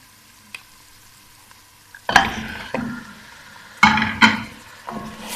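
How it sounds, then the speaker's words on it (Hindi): Mutton pieces dropped into a hot pan of fried onions, sizzling and frying as they are stirred, with a few loud clattering scrapes of the spoon against the pan over a steady background hiss. "और गोश्त डाल के अच्छी तरह भून लेते हैं।"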